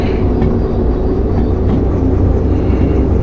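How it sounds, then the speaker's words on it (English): A steam locomotive in the railway game Derail Valley gives a loud, continuous rumbling churn with faint repeated puffs and rail clatter, close and steady, with no voices. "A bit more chuff"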